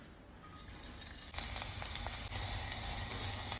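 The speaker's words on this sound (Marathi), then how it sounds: "प्रथम लसूण लाल होईपर्यंत तळून घ्यायचे आणि मग फोडणी करायची" Steady sizzling of garlic frying in hot oil, fairly close, with a few soft crackles and no voices.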